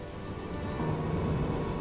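Steady rain falls on a surface in a cartoon story, a dense, even patter with no pauses throughout.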